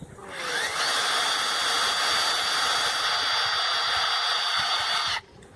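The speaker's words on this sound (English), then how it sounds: "So I drill in 1 inch, and then just give it a little bit of a wiggle because this drill bit is a little bit too tight." A power drill runs steadily as it bores a hole about an inch deep into a mushroom log, holding a loud, continuous whine for around five seconds before cutting off abruptly.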